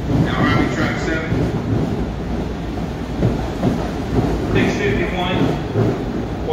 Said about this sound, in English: Now arriving track 7